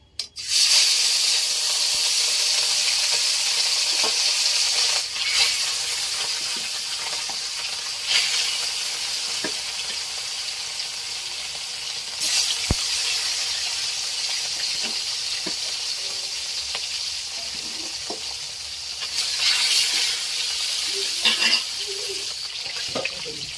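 Fish frying in hot oil give off a steady, loud sizzle that runs unbroken for over twenty seconds, with occasional pops and surges as pieces are stirred.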